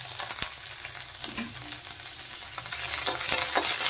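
Crushed ginger frying in hot oil in a pan, a steady close sizzle with occasional sharp crackles and light stirring scrapes, growing a little louder toward the end, with no voices.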